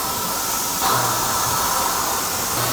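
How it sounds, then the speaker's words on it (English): A 7-inch steam cylinder drives a 5-inch water pump at a Tennessee sorghum-making operation, giving a close, continuous loud hiss of steam with a brief surge partway through. "this end being the 7-inch steam cylinder, that is the motor pushing this 5-inch water pump back and forth"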